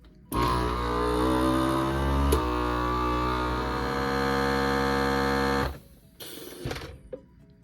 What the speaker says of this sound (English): This sealer is going to shut off completely when all the air is removed.